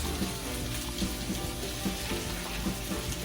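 Beef hitting a hot pan of bell peppers for fajitas, giving a steady, close sizzle with faint stirring clicks and a low background hum throughout, no voices.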